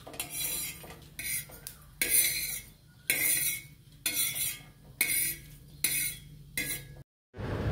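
Fried mutton mixture scraped from a pan onto a plate with a metal spoon, a series of loud, close scraping and clinking bursts about once a second, then a brief silence.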